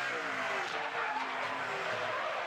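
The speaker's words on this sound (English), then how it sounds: "There is the donut for Hathaway as he does the spin and grabs a gear, keeps on going" A NASCAR Pinty's Series race car spins into a donut at Sunset Speedway, then grabs a gear and keeps going: a loud, continuous engine roar with a steady tire squeal throughout, sustained and close.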